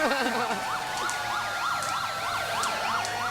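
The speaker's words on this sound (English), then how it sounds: "We'll be back to commentate as soon as the sirens go by." Wailing emergency vehicle sirens pass during a Fourth of July parade in Bridgewater, Massachusetts, a loud, steady rising-and-falling yelp close by with faint crowd noise underneath.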